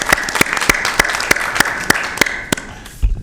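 A few people clapping in an even rhythm at a public library board meeting, about ten distinct claps that fade out near the end.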